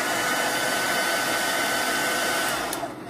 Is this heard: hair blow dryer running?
yes